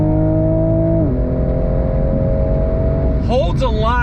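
A 2022 Toyota GR Supra with a catback exhaust pulls hard under throttle, a loud, steady droning engine note with a clear shift in pitch, then a rising whine near the end.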